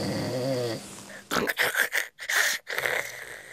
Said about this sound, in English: It's a sort of elegant snoring, if there's such a thing.